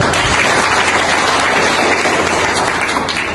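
Loud, steady applause from an audience at an English-learning class event fills the whole stretch, a dense wash of clapping with no pause.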